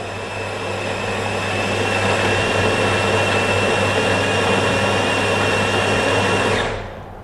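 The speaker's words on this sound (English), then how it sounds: "Machine grinding the beans, now tamping it, and now it's starting to extract it" A Jura coffee machine grinding beans and extracting espresso gives a loud, steady mechanical whir for about seven seconds, close by, then cuts off abruptly, with no talk over it.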